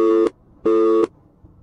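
A telephone busy tone after a call is hung up: two loud, steady electronic beeps separated by silence, followed by a faint trailing pulse.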